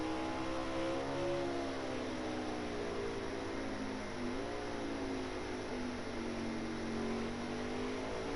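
Race car engine in a racing video game at the Charlotte ROVAL, holding a steady droning pitch with gear changes audible as the tone drops and climbs, continuous and fairly loud throughout with no talking.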